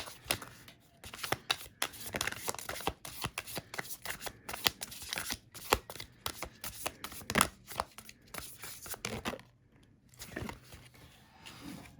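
Tarot cards being shuffled by hand, with rapid riffling, slapping and flicking in close, uneven bursts that ease off briefly toward the end, with no voices.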